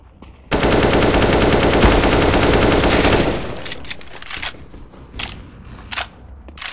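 Automatic gunfire in the video game CS:GO, a loud, rapid burst lasting nearly three seconds, followed by a few scattered, fainter shots and clicks.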